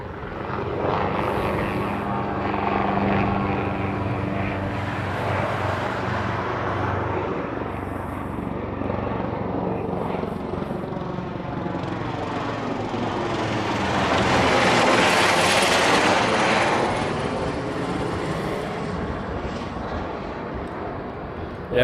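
An MD-11 airliner takes off with a loud, sustained jet roar that swells to a peak around the middle and then recedes, with no talk over it.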